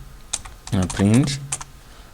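A few bursts of computer keyboard typing while entering code, with a person speaking over the keys in the middle of the clip.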